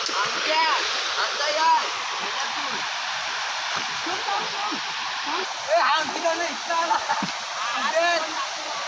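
Water splashes and rushes close by at a village waterfall in the Konkan, a continuous wet churn with intermittent bursts, while people talk over it.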